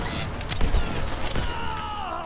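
Rapid gunfire in the shooter game Borderlands 3, a short burst of bright cracking shots with a whining tone trailing underneath, moderately loud and without speech.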